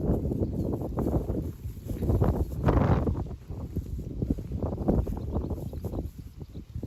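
Wind gusts across an open strawberry farm, a continuous low rumbling roar that swells and fades as it buffets the microphone, with no talking.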